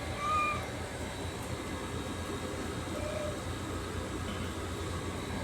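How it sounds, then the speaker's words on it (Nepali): Cats meowing outdoors, one short cry standing out near the start over a steady low rumble of background noise, with a few fainter mews later. "अर्को कालो बिरालो आइपुग्यो"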